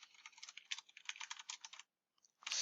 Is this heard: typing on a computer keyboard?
yes